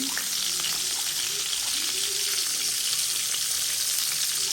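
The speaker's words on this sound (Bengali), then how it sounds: "কড়াইতে তেল দিয়ে দিছি ডাল বাগার দেব" Onion and garlic fry in hot oil in a pan as a tempering for red lentil (masoor) dal, a close, steady crackling sizzle that continues throughout.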